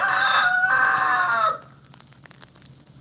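A rooster crows loudly and close for about a second and a half during a Texas winter storm, then faint hen clucks and soft scratching noises follow.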